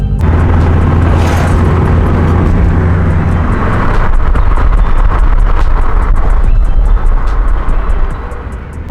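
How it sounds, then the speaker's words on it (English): A car engine with rod knock while driving, a loud, steady rumble that grows harsher partway through, with rapid rhythmic knocking ticks running through it. "This just feels so wrong driving this car with rod knock."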